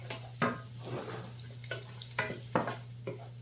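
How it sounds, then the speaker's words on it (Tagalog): Chopped garlic and onions sautéing together in a hot pan, a steady soft sizzle broken by several sharp stirring scrapes spaced through the clip. "Lagay na natin yung ating bawang, sibuyas, sabay ko na"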